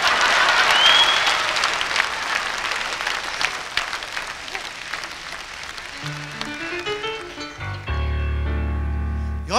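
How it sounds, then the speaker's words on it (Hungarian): Enthusiastic applause from a concert audience at a Hungarian star festival gradually thins out, then a band kicks in with strong bass and keyboard tones as the clapping fades. "Óriási taps, reggelig nem megyünk haza."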